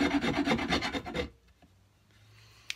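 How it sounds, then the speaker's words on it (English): A round file carves the wooden headstock of a cigar box guitar with rapid rhythmic rasping strokes, loud and close for about a second, then stopping into near quiet with a faint tap at the end. "This is just a round file. You can use any kind of file you got, right? And then I just kind of carve"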